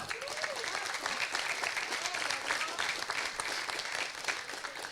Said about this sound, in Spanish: Un aplauso a Cristo por eso.